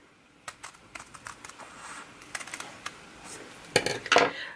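Scissors snipping through paper to shape petals for a quick, easy paper flower from Dollar Tree craft supplies, heard as a series of short, dry close-up snips and rustles that pick up into a denser flurry near the end.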